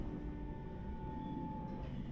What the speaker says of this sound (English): As our train approaches Sendai